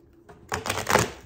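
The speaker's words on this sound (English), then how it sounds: "I'm gonna shuffle these 13 times." Tarot deck being shuffled by hand, a short burst of quick papery riffles and flicks that starts after a brief quiet moment, close and fairly loud.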